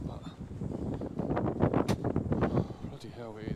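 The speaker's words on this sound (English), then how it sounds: "Very windy down here today, I must say." Cold, strong wind blows outdoors by a roadside stop, rumbling against the microphone beneath someone talking throughout.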